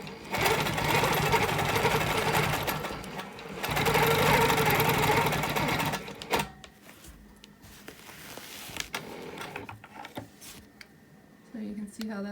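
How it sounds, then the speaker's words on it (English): A sewing machine stitches a wholecloth quilt in steady, loud bursts of rapid whirring, pausing briefly between runs before quieter intermittent stitching resumes, while a person talks during the pauses. "I'll just continue quilting along"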